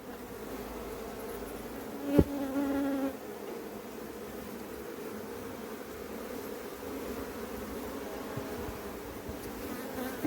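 Honeybees buzzing steadily around an open hive full of pollen, a close, even drone with a brief louder buzz passing near early on.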